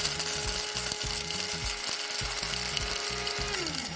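Pink peppercorns whir in a small electric spice grinder, a loud dense motor buzz with rattling seeds that holds steady for a few seconds, then winds down at the end.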